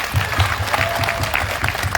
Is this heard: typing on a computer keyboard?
no